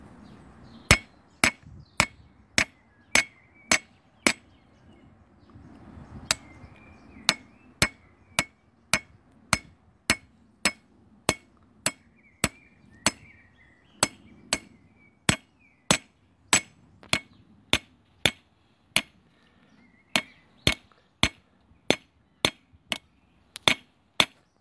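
Hammer peening metal, a long series of sharp, ringing metallic blows at a steady, fairly quick rhythm with a few brief pauses, close and loud against a quiet background.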